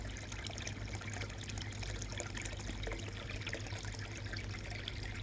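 Water trickles and splashes steadily into a koi pond in winter, a soft continuous pouring flow heard alone at low level with no voices.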